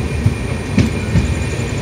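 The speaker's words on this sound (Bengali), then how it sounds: "আমাদের ট্রেন এখন ছেড়ে বেড়াচ্ছে কাটোয়া জংশন।" The Radhikapur Express pulls out of Katwa Junction with a constant rumble broken by periodic wheel clacks over the rail joints, close and fairly loud, with no talking.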